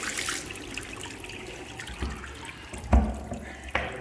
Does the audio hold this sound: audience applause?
no